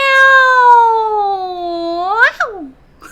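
A voice imitates a cat during a singing warm-up for children, with a long, high, gliding meow that slowly falls, then bends up and drops sharply at the end, loud and close, followed by a brief short sound.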